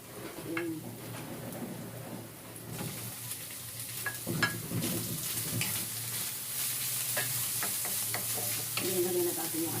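Chicken pieces stirred in a hot frying pan, sizzling steadily with scraping stirs throughout, while birds coo and chirp in the background.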